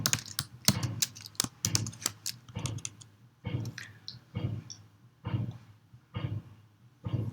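Computer keyboard keys clatter in irregular bursts of quick, crisp taps separated by short pauses, moderately close and fairly quiet, with no voices.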